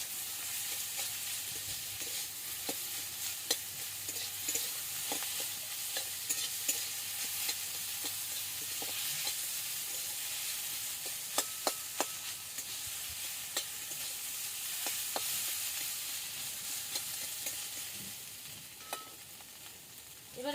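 Boiled potatoes cooking in a pan with turmeric and salt for samosa filling give a continuous low sizzle, broken by scattered spoon scrapes and taps against the pan, with no voices.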